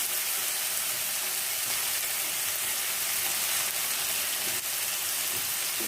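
Rohu fish chunks frying in a pan with browned potatoes and tomatoes give a steady, close sizzle with faint stirring clatter, continuous and fairly quiet throughout with no talk.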